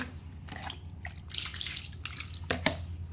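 Water drips and splashes in scattered short bursts while a bonti blade is rinsed, close and fairly quiet over a low steady hum.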